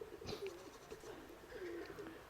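Soft, low cooing of pigeons, a couple of rolling calls close by in a quiet setting.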